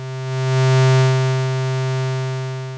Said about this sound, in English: So I'm going to start with an oscillator that sounds like this.